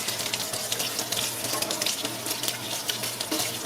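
Tap water runs in a continuous, loud splashing stream as a bundle of long beans is rinsed under it, steady for several seconds with no speech.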